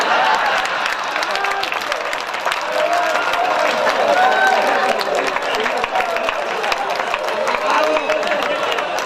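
An audience at a Hindi kavi sammelan breaks into loud, sustained applause, a dense steady wash of clapping from a large crowd with some cheering mixed in, lasting the whole stretch.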